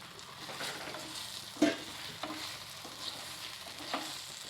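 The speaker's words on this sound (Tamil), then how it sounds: "அதுக்கப்புறம் நம்ம அதில் இட்லி போட்டு பிரட்டி எடுத்துடலாம்" Idli is tossed in oil in a pan for podi idli, giving a quiet, soft sizzle with a sharp knock early on and a few gentler stirring bumps.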